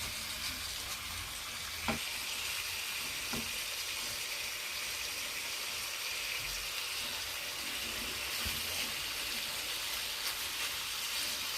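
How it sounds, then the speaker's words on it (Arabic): Ground meat kofta frying in a pan with onion and garlic, giving a steady, continuous sizzle throughout with a couple of faint knocks, no voices. "هاد الكفته هادي كتنسجم بسهوله مع البصله ديالنا والثومه اللي درناهم تيتشحروا"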